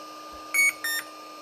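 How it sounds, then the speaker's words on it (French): An Autel EVO Nano+ drone gives two short electronic locator beeps, the first steady and the second a bit broken, sharp and close over a faint constant hum. No one speaks. "pour le localiser, ben, je l'ai fait biper"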